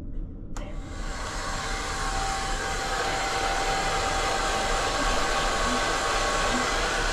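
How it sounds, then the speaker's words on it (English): A Valera Swiss Light hair dryer in a cruise ship cabin switches on with a click and then blows in a steady, loud whooshing hum with a faint whine throughout. "give the hairdryer a go then,"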